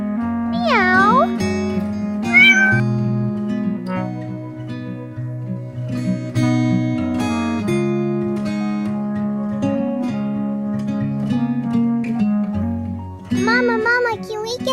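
Cartoon-style meows from a mother cat, likely voiced by a person imitating a cat, come at the start and again near the end, each a sweeping, wavering cry over continuous upbeat music, with childlike voices faintly present.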